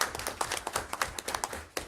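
Scattered hand clapping from a small group at a school board meeting, honoring teachers: a steady patter of close claps over nearly two seconds, fairly quiet, with no talking.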